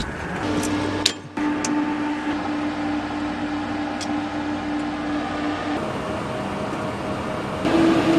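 Inside a Cessna Citation XLS cockpit with the landing gear down on approach, a steady broadband roar and rumble fill the cabin with a faint hum, a couple of brief clicks and a slight shift in tone near the end.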